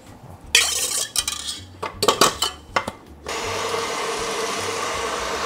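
An electric mixer beats chilled cream in a kitchen to make clotted cream. A few seconds of clattering and scraping against the bowl come first, then the motor settles into a steady, moderate whirring hum.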